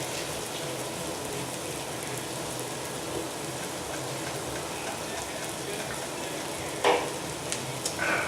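Onions sizzling in butter and a little olive oil with salt and pepper, a steady, close crackling hiss that runs evenly throughout, with a few brief clinks near the end.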